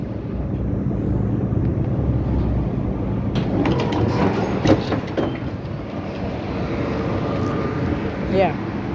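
Bucharest tram number 44 rolls along between stops, a steady low rumble with rattling and clanks from inside the car, while people talk nearby.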